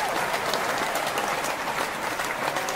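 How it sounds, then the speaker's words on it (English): Applause from an audience welcoming a guest presenter at an online home-schooling learning event, steady and dense throughout without pause. "I love the applause"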